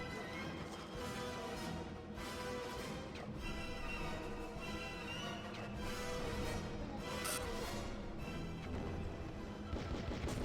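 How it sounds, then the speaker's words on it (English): Explosions and gunfire in the retro sci-fi video game Outcast, a dense, continuous barrage of blasts and crashes that stays loud throughout with no pauses. "it's like those explosions I'm kind of like worried about"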